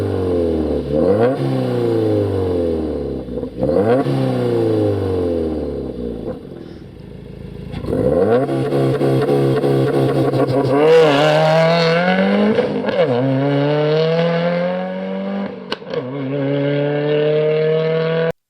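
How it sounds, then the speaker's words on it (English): A 2022 Subaru WRX with Perrin equal-length headers revs repeatedly up and down, each rise giving a smooth, even exhaust note, loud and close, with several sharp climbs and falls and brief dips between pulls. "You'll hear the exhaust note and you'll hear how it's very even."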